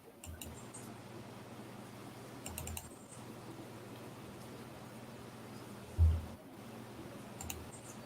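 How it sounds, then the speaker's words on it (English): A computer mouse and keyboard on a desktop, with scattered light clicks and tapping over a faint steady fan hum and one dull bump, close and without speech. "We can hear your mouse."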